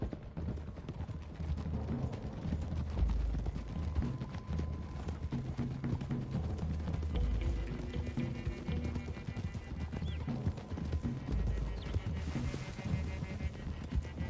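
Horses gallop in Red Dead Redemption, a steady run of clip-clop hoofbeats with an occasional whinny, loud and close over a low rumble of game ambience.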